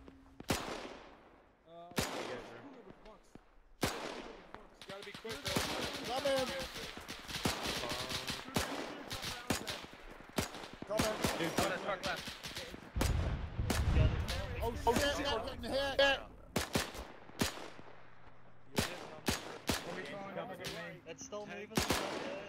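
Bursts of US .30 cal machine gun fire in a World War II beach-landing battle in ARMA 3, sharp repeated shots and volleys spread across the scene with other battle noise, while a player talks over it.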